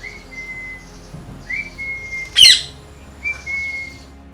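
Parakeets and other birds gathered on a rooftop feeding spot give clear, repeated whistled calls, steady tones separated by pauses, with one sharp, louder squawk in the middle and no voices.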